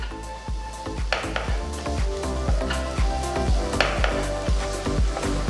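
Grated fresh coconut and chopped coriander frying in a pan, with a light sizzle under repeated sharp taps and scrapes of a utensil against the pan, steady and close, with no talk.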